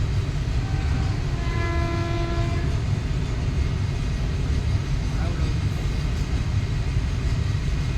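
A train at a railway station platform on a family trip to Puri gives a steady, loud rumble, with a sustained horn blast early on and voices mixed in beneath it.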